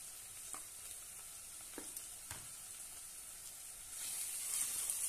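Ground coriander, turmeric, red chilli powder and salt sauté in hot oil for a mung dal, giving a steady soft sizzle with a few light stirring scrapes, and the frying hiss swells louder near the end.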